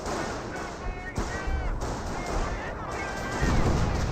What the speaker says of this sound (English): 25-pounder barrage getting a good hit there.